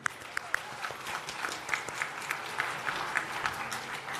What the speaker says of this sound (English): Oh my gosh, give him another clap.